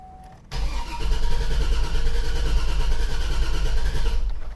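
A 2004 Chevrolet Suburban 6.0L 4x4 V8 with its injectors disabled cranks on the starter without firing, giving a loud, steady, rhythmic churn that runs about four seconds after a short quiet lead-in and then stops.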